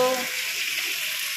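Ivy gourd (kundru) fries with chopped onion and green chillies in a pan, giving a soft, even sizzle close by that holds steady for a moment.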